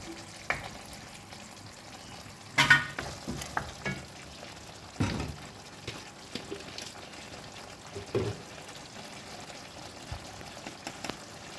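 Tomato sautéing in oil for sambal udang gives a soft, steady sizzle with scattered stirring scrapes and a few louder clatters, fairly quiet and without voices.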